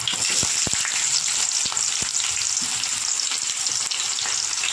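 Onions fry in a pan for potato curry, a loud steady sizzle broken by a few sharp clicks and scrapes of stirring, with no talking.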